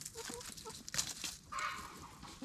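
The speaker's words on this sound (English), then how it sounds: "Oh, that chicken's having a good time." Backyard chickens in a Florida permaculture food forest garden, giving short clucks and squawks in a quick burst, faint and close, with no talking.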